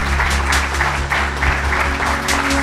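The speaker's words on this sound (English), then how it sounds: "I will request all the people in this hall to stand up and clap for this man." An audience in a hall claps steadily and continuously at moderate loudness, a dense, even wash of applause with no voices on top.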